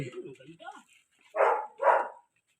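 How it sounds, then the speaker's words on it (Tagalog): Two short, loud dog barks sound after a stretch of talking, spaced about half a second apart and fairly close. "May aso dyan."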